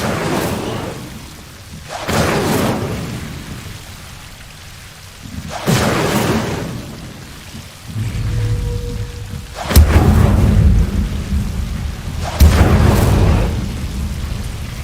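Incendio fire spells cast in Hogwarts Legacy: several loud whooshing bursts, each swelling and fading over a second or so, repeating about every two to three seconds, with a low rumbling crackle under the later ones.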